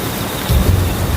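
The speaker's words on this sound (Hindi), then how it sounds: "आसमान में तेज बिजली कड़क रही थी और बारिश की बूंदें शरीर को चाकू की तरह चुभ रही थी।" Heavy rain pours in a thunderstorm, a loud, dense wash of noise, and a deep rumble of thunder swells midway and rolls on to the end.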